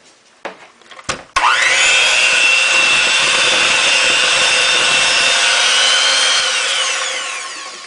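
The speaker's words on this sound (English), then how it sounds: "So I'm just going to mix it a tiny bit more to make sure I get that flour incorporated in there." Whole wheat pumpkin muffin batter is mixed in a bowl, a few clattering knocks giving way to a loud, steady whirring churn that holds for several seconds, then fades slightly, with no voices.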